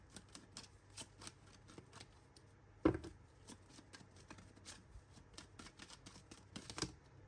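Tarot cards are shuffled by hand in a series of soft, quick riffling clicks and flutters, one sharper slap near the middle, quiet and close.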